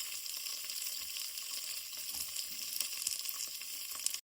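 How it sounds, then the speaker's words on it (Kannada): Beans, carrot and potato frying in hot tempering oil, a bright, continuous close sizzle with occasional crackles that cuts off abruptly at the end. "ಒಗ್ಗರಣೆ ಸ್ವಲ್ಪ ಫ್ರೈ ಆಗಿ ಆಗ್ತಾ ಇದೆ"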